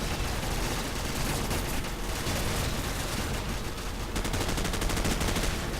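Assault rifle gunfire from the shooter game Call of Duty 4 rattles in dense, rapid bursts, loud and close, with dense overlapping shots filling the whole stretch.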